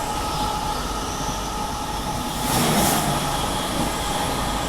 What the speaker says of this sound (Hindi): बैक टू बैक राजधानी ट्रेन के साथ क्रॉसिंग हो रही है यहाँ पर